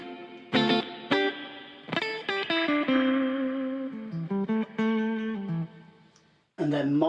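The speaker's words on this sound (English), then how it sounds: "Spring reverb." Electric guitar played through the spring reverb setting of a BOSS ME-50, with short picked phrases and chords that leave a springy, rippling tail, moderately loud with a brief pause near the end.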